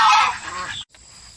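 Young meat chickens being moved out of a brooder give a loud, harsh squawking burst up close, which fades into softer rustling and then stops abruptly.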